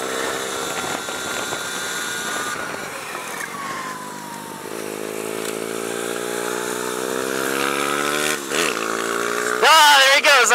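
A Sur Ron Light Bee motorbike practises on an asphalt kart track at Shasta Kart Klub. Its whining motor rises and falls in pitch, shifting up as it passes close by, with voices talking over it.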